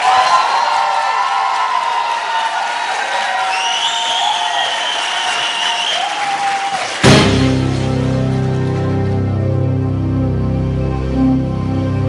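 Talent-show audience bursting into loud, sustained applause and cheering with whoops, kicking in abruptly after several seconds of music and filling the rest of the clip.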